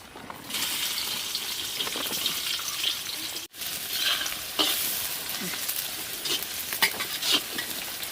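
Onion sizzling in hot oil in a pan for egg fried rice, a steady loud frying hiss with stirring scrapes, broken by a brief gap midway, with no talking.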